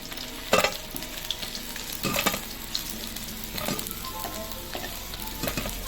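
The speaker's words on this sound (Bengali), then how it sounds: "এইভাবে বাকি মাছগুলো ভেজে নেব।" Barramundi (bhetki) fish sizzles loudly in hot oil, punctuated by a few sharp clattering stirs or flips of a utensil in the pan.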